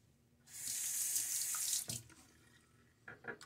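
A bathroom sink tap runs for a little over a second during rinsing, a close, steady hiss of water that then shuts off, followed by a few faint splashes.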